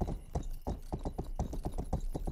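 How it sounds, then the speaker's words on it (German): Hoofbeats from a horse ridden in the video game Rustler, a steady galloping clip-clop of repeated thuds, close and fairly loud with no talk over them. "Oder nehmen wir doch das Pferd hier"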